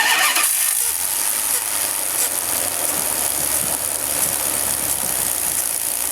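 A 1990 Dodge Ram 250 van engine idling steadily and close by, a continuous hiss-laden rumble with no change in pace.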